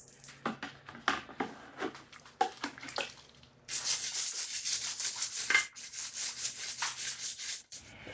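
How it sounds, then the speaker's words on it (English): A brush scrubs against a plastic grit guard at the bottom of a water bucket while cleaning a 2008 Acura MDX engine block, first in short separate rasping strokes, then in a longer continuous run of close, wet scrubbing. "I do have a grit guard in the bottom of this bucket that I'm running the brush across"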